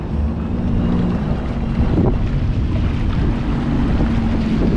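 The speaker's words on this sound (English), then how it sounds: "the wind's just blowing me." Wind gusting across Toronto harbour from a small boat on the water, a continuous loud roar of rushing air buffeting the microphone, with faint water sounds beneath and no speech.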